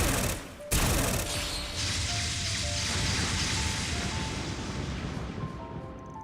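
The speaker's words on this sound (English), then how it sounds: "My specialty, an enhanced needle gun." Rapid continuous firing of an enhanced needle gun in the game Trails Beyond the Horizon, a dense sustained rattling barrage after a sharp opening burst, loud with faint background music tones.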